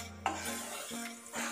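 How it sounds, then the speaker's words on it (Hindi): Utensil scraping and stirring wheat flour roasting in a pan over medium-low flame for halwa, a soft continuous clatter of spoon against metal with faint sizzle, close and steady. "इसे हमें लगातार हिलाते रहना है।"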